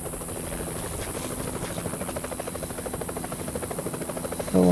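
A helicopter arrives for a pickup in the video game Vietcong: a steady, loud rotor chop fills the whole stretch, close by and with no voices, ending in a sudden louder burst.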